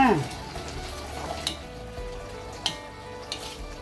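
Pumpkin curry with pork ribs bubbling and sizzling in a pot over the heat, a continuous simmer broken by a few sharp clinks of utensils against the pot.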